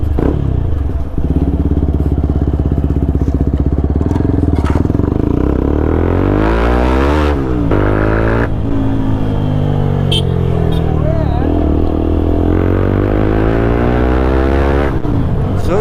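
Loud, bassy TVS Apache motorcycle with a full-system aftermarket exhaust, revving hard in repeated rising and falling bursts over a steady deep idle, close up and continuous throughout.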